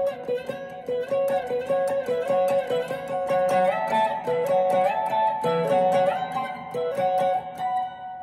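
Electric guitar plays a solo, a busy run of quick picked notes with sliding, bending pitches over a ringing, effect-laden tone, close and continuous with no talking.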